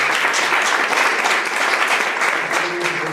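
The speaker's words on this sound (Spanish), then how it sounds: "Un aplauso para ella, por favor" Steady, dense applause from an audience welcoming a young poet at a poetry event, loud and continuous throughout with no pauses.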